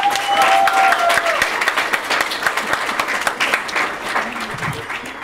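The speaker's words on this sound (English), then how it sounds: "Can we give a round of applause to our families?" An audience at a graduation ceremony claps for the families, a loud, sustained burst of applause from a crowd that slowly thins toward the end.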